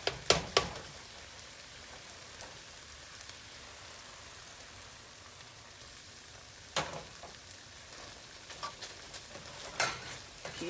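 Shrimp risotto being stirred in a pan, a steady soft sizzle with scraping spoon strokes and a few louder stirring bursts, no talking.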